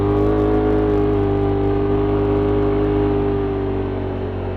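A Polaris RZR XP Turbo side-by-side being driven, fitted with an RS1 clutch spring and OEM clutch weights, with a loud, steady engine drone and whir held close throughout.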